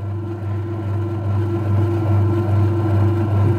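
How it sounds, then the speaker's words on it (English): A bread maker kneading dough, with a steady low motor hum and faint rhythmic churning running continuously at moderate level, close by. "It's actually stirring a dough."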